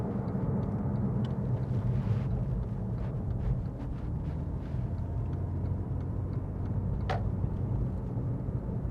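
2006 Porsche 911 cruising at around 55 mph, a steady low engine and road rumble heard from inside the cabin with no talk.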